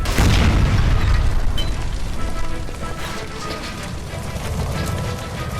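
A gas line explosion by a stove in L.A. Noire, set off by a gunshot, erupts as a loud, dense blast, then tails off into a long roaring fire and debris rumble that slowly fades.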